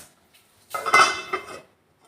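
A single clattering clink of a lid set down over a clay pot of cooking mango curry, a short ceramic rattle that settles after a moment, close by.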